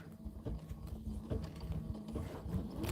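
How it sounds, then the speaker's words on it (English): A machine quilts a fabric block for a Kimberbell Enchanted Winter filler block, a quiet steady mechanical chatter with a rapid repetitive stitching rhythm running throughout. "now we're just going to go ahead and let it do the quilting"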